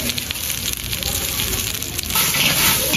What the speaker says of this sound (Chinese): 炸好的豆虫重新回一下锅